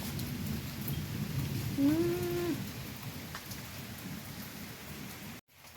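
Steady rain pours down in a dense, close hiss. A brief low tonal hum rises partway through, and the sound cuts out abruptly near the end.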